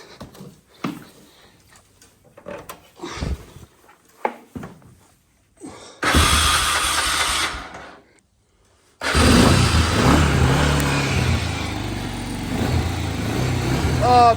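A small engine on choke sputters briefly, cuts out, then catches and runs steadily with a loud, buzzing idle, preceded by scattered clicks and a voice talking.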